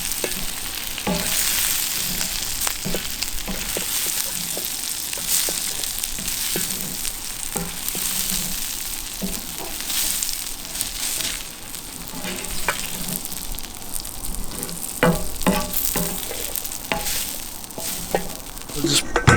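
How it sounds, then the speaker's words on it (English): Food sizzles steadily on a homemade discada disc while a metal utensil scrapes across the hot surface in sharp, repeated strokes, close and loud with no talking. "We're going to scrape this out and then heat up some shells real quick."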